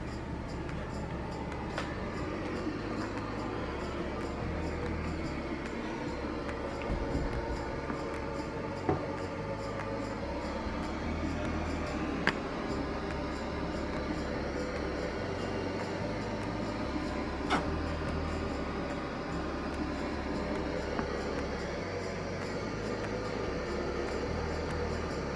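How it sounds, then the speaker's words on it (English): A baby's sound machine runs in a nursery, giving a steady, even hiss of broadband noise with a low hum that stays constant throughout, with a few faint clicks and no voices. "Let me get the sound machine off."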